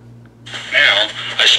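A smartphone speaker plays back a recording made through an old 19th-century-style telephone handset microphone, giving a thin, tinny, band-limited voice with a low hum underneath.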